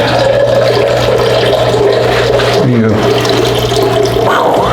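Water runs steadily from a kitchen tap, a loud close hiss and splash with a low hum underneath, while people talk over it.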